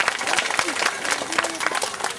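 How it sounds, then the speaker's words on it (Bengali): A school audience claps together at a ceremony where a teacher launches a magazine, the applause a dense, steady patter of many hands that fills the whole stretch close by, with no break in it. "আপনারা সবাই মিলে একটু জোরে হাততালি দেবেন"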